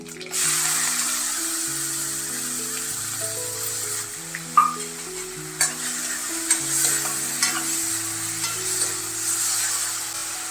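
Curry leaves and onion hitting hot oil for a sprouted moong curry, a bright sustained sizzle with a few sharp spatters and clinks, set against a quiet background melody.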